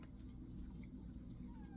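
A house cat gives a couple of faint, soft meows indoors against low background hum, quiet and somewhat distant, with a person talking nearby.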